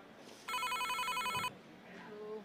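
A phone rings with a loud, bright electronic ringtone that pulses for about a second, then stops, leaving faint background sound.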